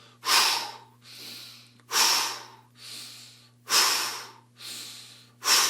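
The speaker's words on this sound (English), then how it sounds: "Strong exhale. Focus on that exhale." Strong, forceful exhales from a breathing exercise come as six separate puffs, about one per second, alternately louder and softer, close and clear with nobody speaking.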